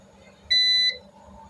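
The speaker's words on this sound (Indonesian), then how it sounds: "Ini tes sekali lagi pakai avometer. Saya tancapkan lagi. Kalau bunyi berarti sudah oke. Kalau bunyi buzzernya," An avometer (multimeter) buzzer gives a single clear, high, steady beep lasting under half a second while a TV speaker is tested, against quiet background hum.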